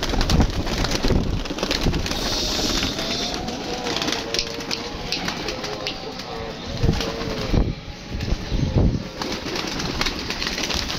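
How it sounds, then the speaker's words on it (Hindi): Domestic pigeons coo repeatedly in a low, rolling rhythm close by, with other birds calling, wing flaps and shuffling noises around them in a loft or coop. "ये जो ना परिंदे हो गए हैं दोस्तों हमारे जो कबूतर है ना"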